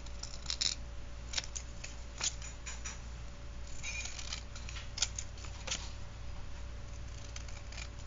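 Scissors cut vellum card for a handmade card, several short, sharp snips scattered over a quiet background hum, close and soft, with no speech.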